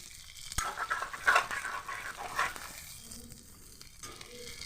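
Pork with elephant apple stirred in a little oil in a pan, a soft steady sizzle with a few louder scraping bursts of the spoon early on, then settling to a quieter frying hiss.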